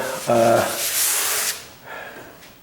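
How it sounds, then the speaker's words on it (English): Light hand sanding of edges with sandpaper during a home renovation, a brief breathy rubbing hiss in two strokes, close by, with a short hum of voice at the start. "I'll sand it"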